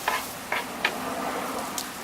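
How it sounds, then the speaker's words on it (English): Fajita vegetables sizzling on a hot griddle, with a steady frying hiss throughout and a few short scraping strokes as they are pushed aside, close up with no talking. "now we're just going to scooch them over on the grill a bit so we've got some room"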